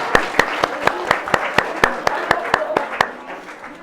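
Guests at a wedding clap for the young ring bearer, Harry: a modest round of about a dozen distinct, fairly even claps with a light murmur of voices underneath.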